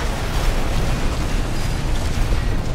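Explosion in the Armored Core 6 video game, a dense, sustained roaring blast of broadband noise that stays loud and steady for a few seconds with no talk over it.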